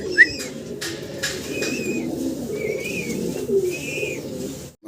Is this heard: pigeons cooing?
yes